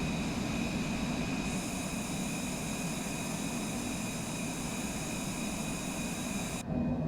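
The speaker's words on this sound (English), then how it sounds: "Gear coming up." Steady, loud jet engine roar inside a Cessna Citation Longitude in a flight simulator game just after takeoff with the landing gear retracting, a constant broadband rumble and hiss with a slight shift near the end.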